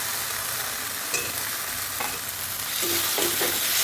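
Fried potatoes hit sizzling masala in a pan, giving a loud, steady hiss broken by several scraping stir strokes, with no voices.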